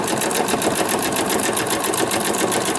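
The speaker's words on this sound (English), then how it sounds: "I'm just stitching" A sewing machine stitches a fabric journal cover made from scraps, giving a loud, close and continuous whir with a fast, even needle patter and no voices over it.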